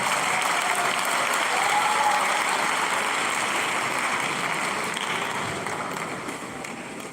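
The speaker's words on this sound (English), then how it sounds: "Let's sustain the applause for our Vice Chancellor, please." A large audience at a student loan sensitization programme for Oyo State tertiary institutions gives sustained applause for the Vice Chancellor, a dense, even roar of clapping that slowly tapers off.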